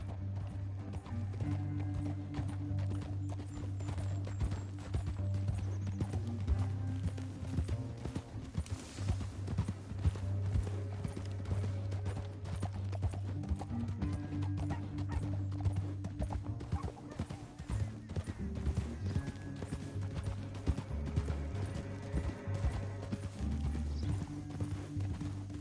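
Horse hooves gallop in a steady rhythmic clip-clop throughout the Red Dead Redemption 2 game scene, moderately loud and continuous, with an occasional whinny.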